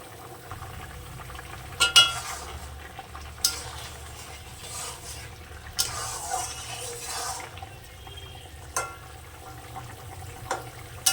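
Fish curry broth heated in a pot, a low steady bubbling simmer with occasional clinks and scrapes of a spoon against the pot, close and fairly quiet with no talking.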